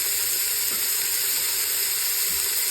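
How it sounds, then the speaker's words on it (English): Chopped onion and celery sauteing in a pan, a steady close sizzle and hiss with faint stirring, no talking. "our onion, about half a cup's worth, and our celery. Let that saute in there."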